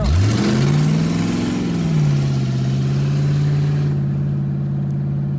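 A 1969 Dodge with its exhaust removed rumbles loud and close as the engine revs and pulls away in first gear, a deep throaty drone that holds steady then drops off abruptly.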